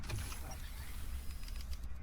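A spaceship door mechanism in the video game Star Citizen, aboard an Origin Jumpworks 315p, gives a steady mechanical whir with faint creaks, moderately loud and continuous with no talk.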